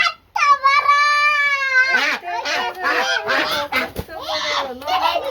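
Ducks at a market call out in loud, repeated honking squawks, several birds close by in overlapping bursts.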